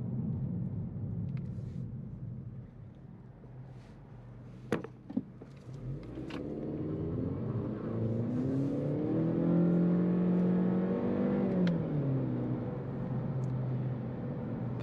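A 2021 Honda Civic Sport Hatchback accelerates hard in sport transmission mode, its engine note rising in pitch through the gears with a shift and brief tire noise, heard from inside the cabin with no talk.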